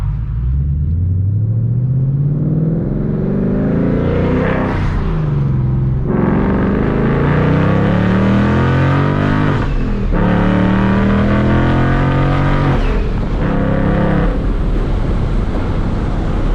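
Procharged Whipple Ford Mustang, about 740 rear-wheel horsepower, accelerating hard on the road: a loud, close engine roar climbs steadily through the gears with brief dips at each shift, continuous and without speech.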